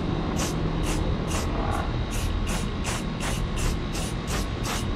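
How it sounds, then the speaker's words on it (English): Spray can hissing into the roof fan opening of a Ford Transit van, a steady close broadband spray lasting the whole stretch with rhythmic bursts pulsing roughly twice a second. "so we're just gonna spray it in there first"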